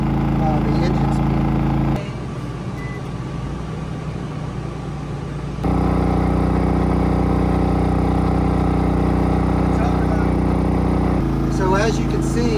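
A WEN DF400i dual-fuel 4000-watt inverter generator runs under load with a steady mid-pitched engine drone and whir that dips and changes pitch briefly as engine speed adjusts, loud and close throughout.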